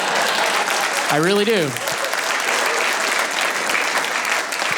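Comedy club audience applauds steadily throughout, with a voice speaking briefly over the clapping early on.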